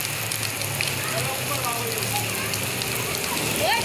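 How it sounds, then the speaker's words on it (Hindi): Heavy rain at the first winter downpour in Karachi hisses steadily and densely nearby, a constant patter with a faint voice underneath. "ये हो रही है तेज बारिश।"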